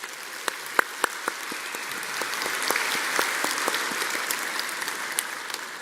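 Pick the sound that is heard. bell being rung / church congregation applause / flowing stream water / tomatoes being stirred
church congregation applause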